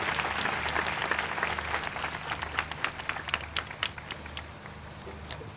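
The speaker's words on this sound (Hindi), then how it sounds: "उसके जलाल के लिए जोरदार तालियां बजाएं" Church congregation applauding during a sermon, a broad steady wash of clapping that thins toward the end, with a low hum underneath.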